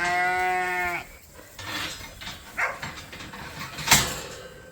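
A sheep gives one loud, wavering bleat close by, followed by rustling and scattered farmyard noises.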